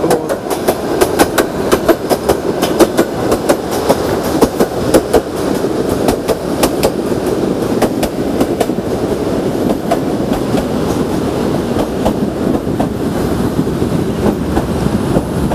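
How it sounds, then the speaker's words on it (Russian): Trains running on a railway beside a building, a loud, steady rumble with continuous rhythmic clickety-clack of wheels over rail joints, close by and unbroken for the whole stretch. "Так что поезда вот ездят, прямо под окнами будут гудеть,"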